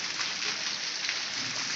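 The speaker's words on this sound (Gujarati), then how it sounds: "આજ સવારથીનો વરસાદ તો આજ બંધ જ નથી થયો" Heavy rain keeps drumming on a rooftop terrace in Bhavnagar, a close, loud and steady hiss with no breaks.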